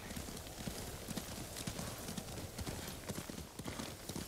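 Horse hooves clopping steadily along outdoor terrain in a story-driven video game, a continuous rhythmic trot heard close under ambient game sound.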